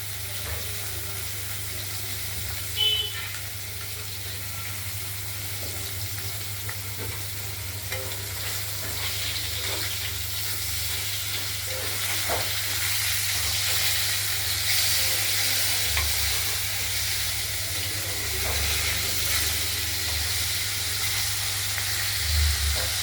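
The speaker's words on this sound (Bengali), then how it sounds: "মাছগুলো তো ভাজা চলছে" Pieces of katla fish frying in a pan, a loud, steady hiss and crackle of hot oil that continues unbroken with occasional light stirring, heard close with a low hum beneath.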